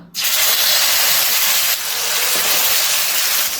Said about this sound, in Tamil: எண்ணெய் நல்லா காஞ்சிருச்சு. சிக்கனை போட்டுக்கலாம்.